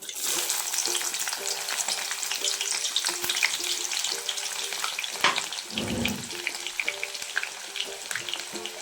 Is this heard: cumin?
yes